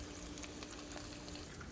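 Low-carb chicken fingers sizzle steadily in a frying pan, a continuous close hiss and crackle with no talking over it.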